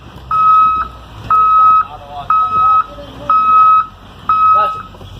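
Deputy's vehicle siren sounding on a major highway where traffic is being stopped for a school bus backing out, a loud steady two-tone electronic wail repeating five times in even pulses, with faint talk underneath.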